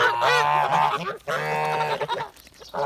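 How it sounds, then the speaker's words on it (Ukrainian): Kholmogory geese honking loudly and close by, a dense overlapping chorus of harsh nasal calls with a brief pause midway, then softer scattered honks. "Ось такі то наші гуси-гусенята."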